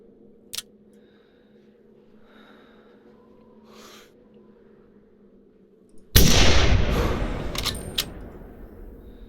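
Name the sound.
8x57 classic rifle gunshot in video game theHunter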